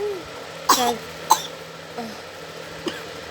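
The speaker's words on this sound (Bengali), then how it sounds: "আবার কাশি হলো" A child coughs in a bedroom at night, a sharp cough near 0.7 s, another near 1.3 s, then two fainter ones, spaced over a few seconds against a quiet room with a steady low hum.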